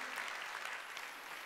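A church congregation at a Sunday worship service applauds, a brief, dense burst of clapping from many hands that fills the room without voices on top.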